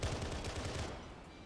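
Continuous gunfire in a Halo-themed Arma military shooter, a dense rattling fusillade that stays loud through the short stretch and tapers slightly at the end.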